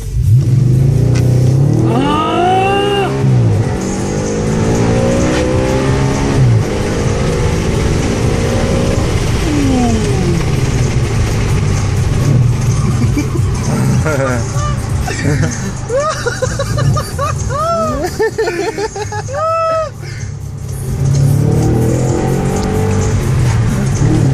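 An Audi RS5 engine revs and accelerates hard, its pitch climbing repeatedly, with people talking over the steady roar.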